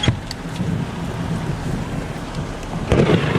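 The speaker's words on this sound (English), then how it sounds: "I hear the thunder." Thunder from a Florida thunderstorm rolls as a low, continuous rumble over falling rain, swelling into a sharper, louder crack near the end.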